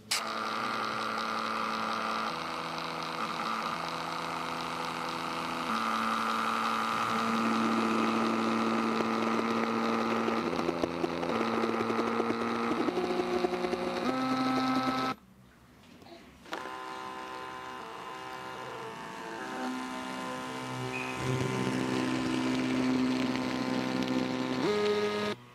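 Peripage and Paperang thermal printers feed paper with a steady mechanical whirr and tonal motor hum, continuous for most of the stretch with a brief pause partway through, then resuming at similar loudness.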